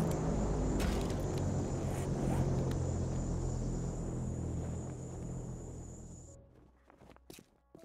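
The airdrop plane in the game 7 Days to Die passes overhead as a loud, steady rumbling drone that fades out over several seconds, followed by a few faint clicks, with no talking.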